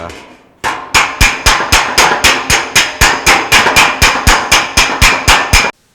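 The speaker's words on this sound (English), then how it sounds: "I've been hammering it around a little bit" Steady, evenly spaced hammer blows ring sharply on the sheet metal of a 1932 Ford body, about a dozen strikes in a quick rhythm, close and loud, then stop abruptly.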